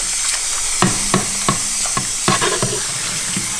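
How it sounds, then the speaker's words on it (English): A sponge scrubbing grease off a warmed pan that held meatballs, with a series of short rubbing swipes and scrapes over a soft steady background hiss. "We're going to cut through the grease on this pan"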